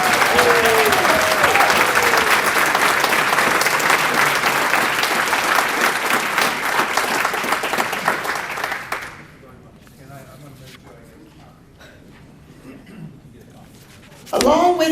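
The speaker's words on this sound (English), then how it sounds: "Please join me in another round of applause for these phenomenal winners." Loud, dense applause from a large audience at a volunteer service awards ceremony, sustained for about nine seconds before fading into quiet room noise, with a brief burst of sound at the very end.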